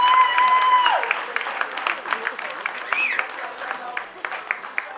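Applause for a driving school at a small business awards ceremony in St. Lucia, a patter of clapping that thins out over a few seconds, with a whistle and crowd noise on top and a voice heard at the start.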